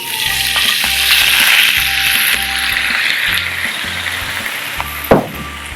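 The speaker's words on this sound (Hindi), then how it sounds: "अब हम वही पैन लेंगे जिसमें हमने फ्राई किया था, उसमें हाफ कप स्प्राइट डाल लेंगे" Half a cup of Sprite poured into a hot frying pan still holding the drippings from fried chicken; a loud, continuous, close sizzle with rattling stirring and one sharp knock near the end, and no speech.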